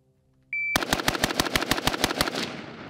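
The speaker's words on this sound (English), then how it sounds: "Test number one, 10 shots, best I can on target." Ten rapid gunshots from a rifle fired at a target, a fast evenly spaced burst of sharp reports lasting under two seconds, loud and close, with a ringing tail after the last shot.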